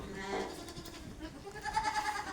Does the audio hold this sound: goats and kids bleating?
yes